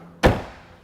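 The convertible top of a 2001 Chrysler Prowler latches into place with a single close, solid thunk that fades quickly, with no talking.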